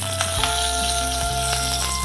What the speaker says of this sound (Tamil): கருவேப்பிலை, கடுகு நல்லா பொரிஞ்சதுக்கப்புறம் கருவேப்பிலை போட்டு.